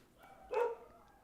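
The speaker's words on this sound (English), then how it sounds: "Okay, the dogs are barking" A dog gives a single short bark at moderate distance, standing out briefly against an otherwise quiet background.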